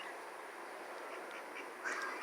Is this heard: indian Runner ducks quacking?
yes